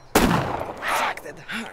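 Rifle fire in the zombie survival game DayZ, from an AK-type rifle: one sharp, loud gunshot with a ringing tail, followed by quieter bursts of noise, with no talk over it.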